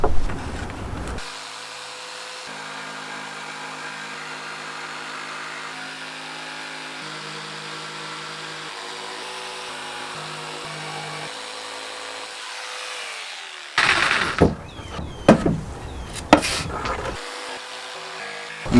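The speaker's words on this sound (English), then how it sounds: "now I'm just going to drill on these lines" A power drill runs steadily along marked lines on a cheap table saw top, a sustained whirring motor that shifts pitch slightly under load, then gives way near the end to louder bursts of clattering and scraping.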